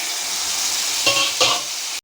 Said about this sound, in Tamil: இப்போ இதை நல்லா வதக்கிக்கலாம் கூடவே தக்காளியை போட்டுக்கலாம்